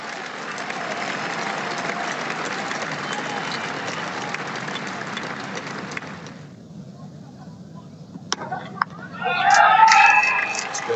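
Cricket crowd at a Test match applauding Gordon Greenidge reaching his fifty: a dense, sustained wash of clapping for about six seconds that cuts away to near quiet, followed by a commentator's voice.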